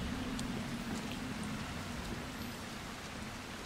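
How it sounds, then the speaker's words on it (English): Steady rain falls in the zombie survival game Dying Light, a dense, even hiss with a low rumbling bed that holds constant throughout without any voices. "It's raining!"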